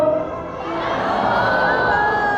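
A crowd of children and adults calls out the name of a macaw called Jumbo at a bird show. The loud massed shout swells and sustains, with voices rising together for a couple of seconds.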